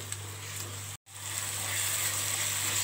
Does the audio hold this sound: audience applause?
no